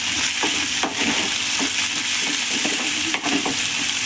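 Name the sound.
green chilies and onions frying in oil while being stirred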